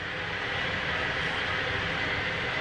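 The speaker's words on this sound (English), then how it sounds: "That's the sound of the kettle boiling up some water." An electric kettle boiling water gives a steady, loud broadband rush and roar that holds evenly throughout, with no speech.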